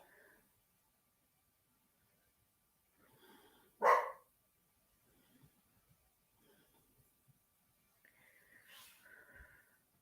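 A dog barking indoors, one loud sharp bark standing out from faint snuffling and quieter sounds, with a later softer vocal stretch; fairly quiet overall.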